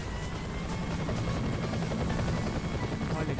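A steady, loud whirring drone of a video game UFO's spinning side propellers, continuous and unbroken throughout, with a dense rumbling low end like a helicopter.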